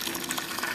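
Second runnings of wort draining during a home-brewed porter brewday, a steady close-up gush of liquid pouring into a vessel, brief and continuous.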